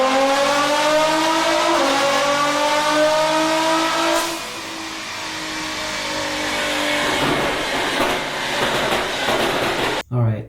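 Nissan GTR engine revving hard, a loud harmonic roar climbing and then settling before easing into a rougher throttle, heard through a playback recording.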